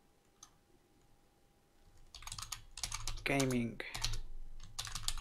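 Rapid keystrokes clatter on a computer keyboard in irregular bursts, fairly close, with brief speech in between.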